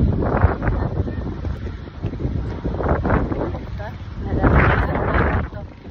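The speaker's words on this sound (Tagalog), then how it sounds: "Ang lakas ng hangin, grabe." Strong wind buffets the microphone at a beach with wind turbines, a steady low roar that swells and gusts, with a voice speaking now and then underneath.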